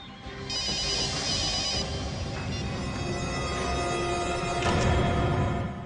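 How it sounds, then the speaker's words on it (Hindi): A mobile phone rings steadily on a TV crime drama, its repeating electronic ringtone loud and close, sustained throughout with no one talking over it. "सर घंटी बज रही है।"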